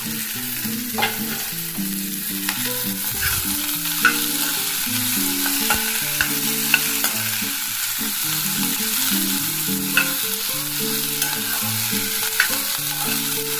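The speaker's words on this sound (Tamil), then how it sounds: "இதே கடாயில் இன்னும் கொஞ்சம் எண்ணெய் ஊற்றிடலாம் இந்த குடமிளகா கட் பண்ணோம் இல்லையா அதை பற்றி நல்லா வதக்கலாம்" Sliced capsicum sautéing in oil in a kadai, a steady close sizzle and crackle with repeated scraping and stirring strokes throughout, no voices.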